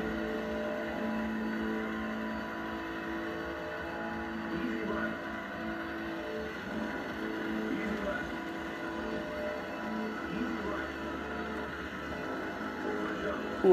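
Game engine audio from a Sega Rally arcade racing machine, a steady droning race-car engine note held throughout at moderate level, with faint speech-like sounds mixed in.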